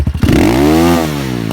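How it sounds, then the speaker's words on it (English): An Apollo 250RX 250cc dirt bike engine revs sharply up and holds at its rev limiter, a loud buzzy exhaust note, then drops off after about a second. "Man, the exhaust sounds nice"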